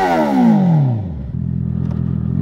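A warm 2023 Honda CB650R motorcycle opens with a loud, falling whine, then settles into a steady, close, pulsing idle rumble for the rest of the clip.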